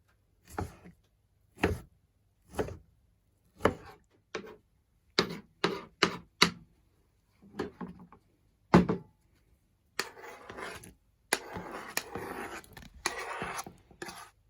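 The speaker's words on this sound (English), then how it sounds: "So the first thing we're going to do is cut up our tomatoes." A knife chops tomatoes for guacamole in a series of separate, crisp strikes with short pauses between them, close and fairly quiet, followed by a few seconds of denser, steadier cutting.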